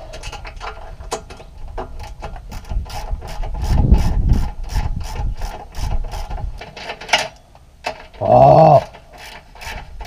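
A ratchet and wrenches loosen a pipe fitting after a burst pipe, with rapid rhythmic metallic clicking from the ratchet, some scraping and clunks of tools close by, and a brief spoken exclamation.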